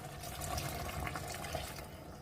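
Beef broth is poured into a pot of stew that already holds tomato sauce and pepper. The liquid splashes and trickles quietly, a soft continuous pour lasting a couple of seconds.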